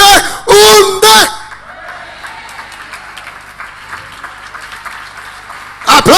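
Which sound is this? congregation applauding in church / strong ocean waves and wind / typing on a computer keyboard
congregation applauding in church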